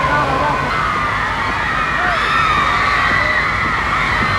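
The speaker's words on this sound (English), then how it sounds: "listen to the crowd screaming too" A crowd screaming as the Beatles arrive in Victoria, Australia, in 1964. The shrill, sustained roar of many voices stays loud and constant throughout, with no break.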